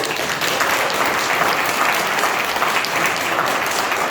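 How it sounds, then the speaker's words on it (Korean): Loud, sustained applause from a large crowd at a book concert, dense and steady throughout with no pauses. "요 박수 소리가 좀 커야 돼"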